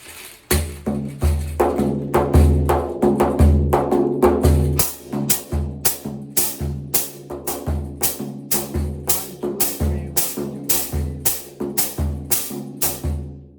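A hand drum played in a steady, repeating rhythm of sharp, resonant strikes, close and loud, with no voices over it.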